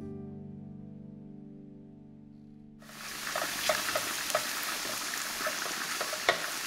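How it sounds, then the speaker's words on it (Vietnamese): Garlic frying in cooking oil in a pan bursts into sizzle partway through after a sustained tonal hum, then crackles steadily with scattered pops, close and fairly quiet. "Cho một ít dầu ăn vào trong chảo và mình cho tỏi vào phi lên cho thơm"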